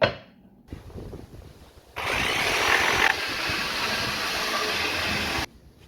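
A power tool cuts a small radius into a used cabinet panel during a rehab, a steady loud buzzing grind running about three and a half seconds after brief handling noises, with no talk.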